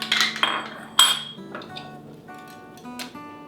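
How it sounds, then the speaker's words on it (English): A whisk clinks against a bowl while mixing heavy cream into homemade fat-free Greek yogurt, giving several sharp metallic taps early on and then softer scraping strokes at close range with no talk. "Take your whisk and mix it all together."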